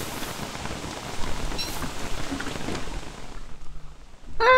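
Steady rain falling in the video game Don't Starve Reign of Giants, a continuous dense hiss of drops at even loudness that thins out near the end.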